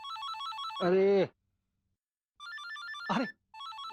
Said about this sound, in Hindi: विचू का फोन है